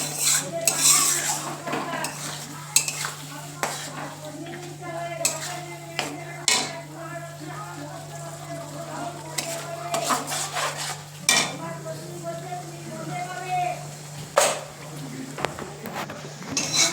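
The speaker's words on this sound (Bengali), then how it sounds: "সমস্ত মশলা অ্যাড করা হয়ে গেছে এবার এটা একটু ভালো করে সুন্দর করে কষিয়ে নেব" A spatula clanks and scrapes against a pan while spiced chitol fish masala is stirred and sautéed, producing irregular metallic knocks over a low sizzle and a faint steady hum.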